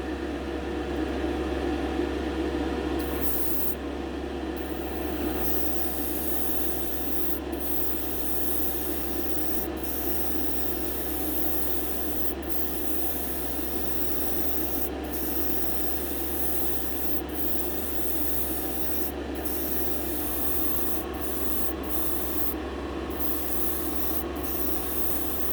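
An airbrush sprays a heavier tint coat onto a model car's glass, a steady close hissing spray with short breaks and no talk.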